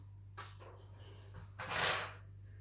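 A knife and spoon are picked up with a couple of brief metallic clinks and a rattling clatter, close and fairly quiet over a low hum in a kitchen.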